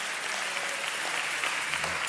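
Continuous audience applause at a congressional campaign event, a dense even wash of clapping with no talk over it, lasting about two seconds.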